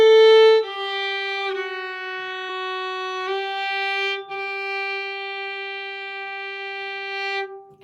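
Fiddle plays a slow, sustained phrase of a Swedish tune, bowed notes with clear harmonic tone changing pitch every second or so, close and solo with no talk.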